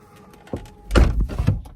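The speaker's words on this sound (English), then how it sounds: "Door closing sound is actually very nice." The door of a 2010 Renault Laguna Coupe GT swings shut with a solid, muffled thunk, preceded by a light click from the latch and followed by a softer settling knock.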